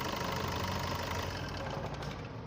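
A 2016 Suzuki S-Cross car engine runs at a steady idle, giving a continuous close, even hum and rumble for a couple of seconds with no talk.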